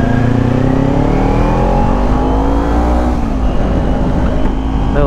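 A loud 2018 Kawasaki Ninja 250 Fi sport motorcycle engine revs up with a rising whine, pitch climbing then dipping slightly as it shifts, close and continuous.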